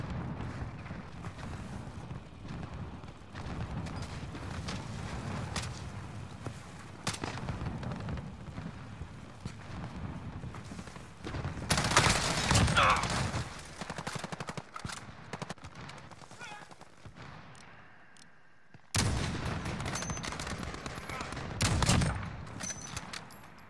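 Call of Duty Warzone battle royale in Verdansk, with dense machine-gun bursts and scattered gunshots rattling almost without pause, swelling into louder volleys and explosive blasts partway through, with faint voices now and then.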